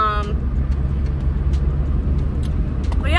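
A car driving on the road, heard from inside as a steady low engine and road rumble with faint hiss, continuous for the whole stretch; brief voice fragments appear at the start and end.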